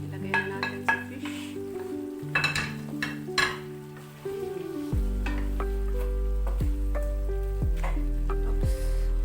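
Barramundi fish frying in a pan with a saucy vegetable stir-fry, a loud steady sizzle rising as the fish goes in, with some stirring and pan clatter throughout, while music plays along.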